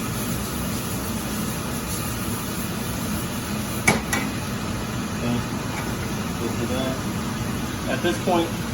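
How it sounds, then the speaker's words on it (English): A kitchen exhaust fan runs steadily through a beef stir fry cooking session, a constant broadband whir with a few brief clinks of utensils and faint talk underneath. "I don't know if you can hear anything with this fan."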